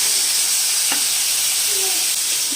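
Marinated chicken tikka cooks in butter in a pan, a loud, continuous sizzle with a brief scrape of stirring, heard alone without talk.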